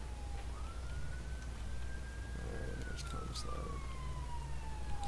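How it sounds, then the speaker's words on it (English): A wailing emergency siren rises and falls in the distance, steady and moderately faint, over a low rumbling background. "Hear that ambulance in the background?"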